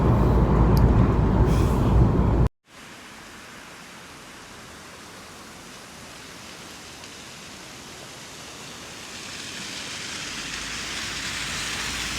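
Steady rain falling outdoors, a dense broadband hiss that continues without a break and swells slightly louder toward the end, after a brief louder noisy burst at the start.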